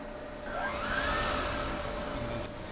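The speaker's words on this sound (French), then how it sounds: "Organe de sécurité très important, le filtre qui va permettre d'évacuer les fumées à l'extérieur." Fume extraction filter of a laser cutter running steadily, a continuous broadband whoosh with a faint tonal whine that rises slightly midway, close and moderately loud, with no speech.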